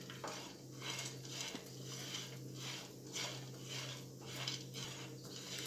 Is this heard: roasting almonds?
yes